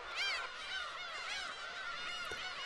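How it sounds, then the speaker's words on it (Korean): Black-tailed gulls cry in a dense, overlapping chorus near a small southern island, many high mewing calls layered continuously and fairly close with no voices. "괭이 갈매기들은 경상남도 최남단 한 절의 고도에 모여든다"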